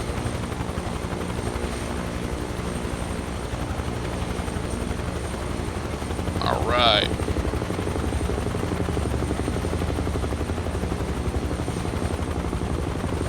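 A helicopter in Microsoft Flight Simulator gives a steady, loud rotor and turbine drone with rhythmic blade chop, and a voice speaks briefly partway through.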